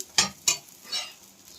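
An aloo farali paratha fries in oil on a pan, with two sharp scraping stir sounds early on, followed by a softer sizzling swell, close and fairly quiet, with no talking.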